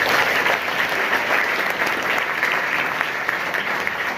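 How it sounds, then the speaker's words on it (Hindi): Loud, sustained applause from a school audience, with a thick wash of many hands clapping evenly without pause. "एक बार मैं चाहूंगा गैलीलियो की जोरदार ताली होनी चाहिए।"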